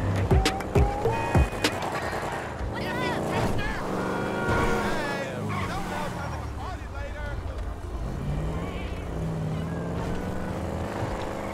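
Car engine and road noise from driving in Grand Theft Auto 5 sits under someone talking over the gameplay, with changing engine pitch and a few sharp sounds early on.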